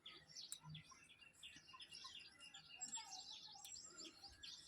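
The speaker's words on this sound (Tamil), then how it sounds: "எங்கள் ஊரில் காலையிலே எப்படி சத்தம் கேட்குற பாருங்க, குருவி எல்லாம்" Sparrows chirping in the morning, a steady stream of many quick, overlapping tweets at moderate distance, faint and continuous throughout.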